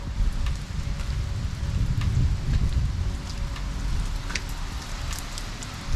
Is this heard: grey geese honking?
no